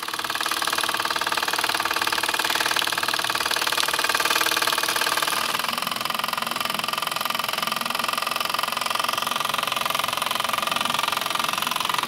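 A Mamod Brooklands Roadster toy steam car runs steadily on its first steam-up, a fast, even mechanical chuffing and whir that holds constant as it builds speed, close by with no talk.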